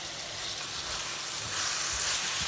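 Vegetables fry in a pan with a steady, close hiss and crackle that holds throughout.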